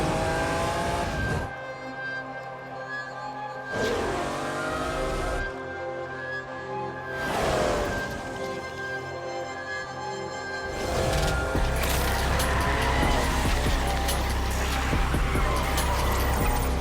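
A car in the Need for Speed Unbound racing game drives fast, its engine revving up repeatedly through gear shifts, then roaring louder with tire squeal and skidding toward the end.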